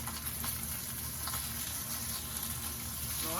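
Bacon fries in a pan with a constant, close crackling sizzle that holds steady throughout, with no talking over it.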